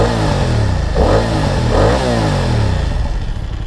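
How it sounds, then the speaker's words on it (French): Exhaust of a 2023 BMW F 900 XR motorcycle in A2 trim, heard up close and loud as the engine is blipped twice in quick succession, each rev rising and falling over a steady rumbling idle. "Je vous fais écouter le bruit de l'échappement."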